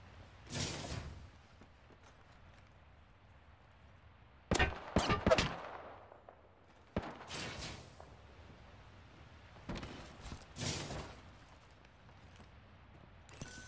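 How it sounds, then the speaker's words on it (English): Gunfire in the video game Apex Legends, several separate bursts of rapid shots, some sharp and close, others more distant, spread across the clip with quiet gaps between them. "Looks like some people have been shooting."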